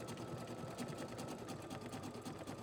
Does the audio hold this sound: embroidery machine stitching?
yes